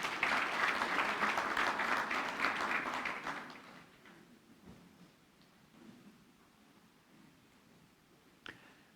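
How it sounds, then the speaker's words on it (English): A church congregation gives the worship team a loud burst of hand clapping that fades after about three seconds into quiet room sound with scattered small noises and one sharp knock near the end. "Let's give our worship team a big hand clap"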